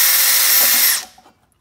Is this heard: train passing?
no